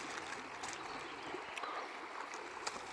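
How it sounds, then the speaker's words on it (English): Water flows in a spring creek beside a road, a steady broadband rush with faint trickling ticks, moderately close and continuous with no voices. "It's a lot of water in the creek there too."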